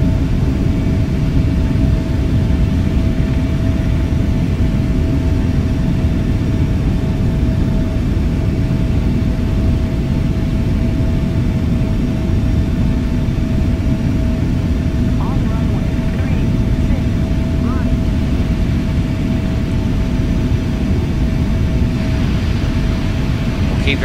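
Boeing 777 engines roar steadily through a takeoff roll in a flight simulator at Dallas, a constant loud jet rumble with a thin whine on top, while people talk over it.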